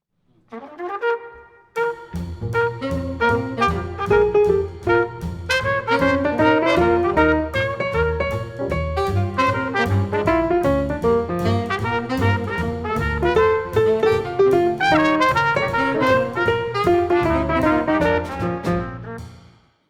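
Piano playing a swinging rhythm with overlapping groupings of four and three, steady and continuous with no talking.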